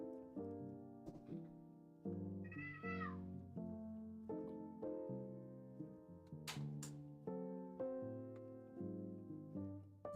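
A pet cat meows a few times at close range over steady Minecraft game music, the calls brief and rising against the layered background tones.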